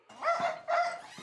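A dog gives two short barks, each a clear yelp of about a third of a second, heard fairly close with a pause between them.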